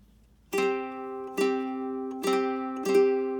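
Four separate guitar strums of the first two strings, each ringing out clearly and evenly spaced, with no talking.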